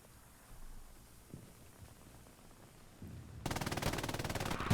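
Machine gun fire in Hell Let Loose during a 36 vs 36 competitive match, faint and distant at first, then a loud, sustained rapid burst near the end.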